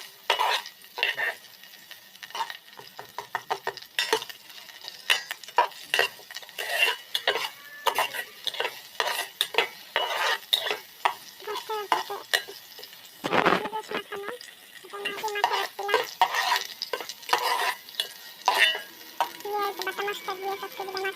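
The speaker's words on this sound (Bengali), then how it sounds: "পেঁয়াজ ভাজাটা হয়ে গেছে" Onions frying in a little oil inside a rice cooker pot, with busy, uneven stirring and spoon-against-pot clatter over a soft sizzle that carries throughout.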